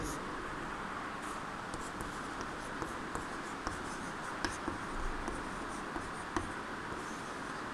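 Handwriting scratches steadily through a mathematics lesson on planetary orbits, a soft continuous scraping with small tapping ticks, set against a constant background hiss.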